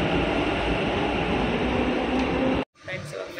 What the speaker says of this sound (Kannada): ಇವಾಗ ಮೆಟ್ರೋದಲ್ಲಿ ಬಂದು ಕೂತಿದ್ದೀವಿ